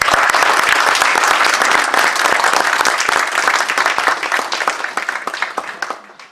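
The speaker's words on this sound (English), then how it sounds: "Let's give her a round of applause" Loud, dense applause from a large audience at a drug-prevention conference held at United Nations headquarters, honoring a woman who protects children, sustained clapping that thins and fades near the end.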